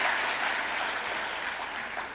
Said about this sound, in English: That's worthy of applause for sure, definitely.